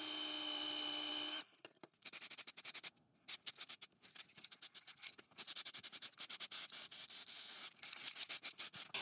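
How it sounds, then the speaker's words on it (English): A power drill bores a hole for a power socket in a wooden book page holder project, cutting in short repeated bursts with brief pauses, loud and close, after a steady whir at the start. "let's drill the hole for the power socket"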